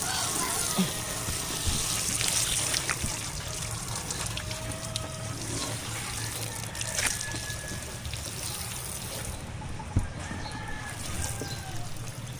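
Tap water runs while a motorcycle is being cleaned, giving a steady trickling hiss at moderate loudness with a few faint clicks and knocks scattered through it.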